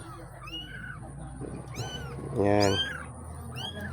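Tiny 12-day-old Persian-mix kittens meow in thin high cries, several brief calls with one louder wail near the middle, over a low background hum with a voice speaking briefly.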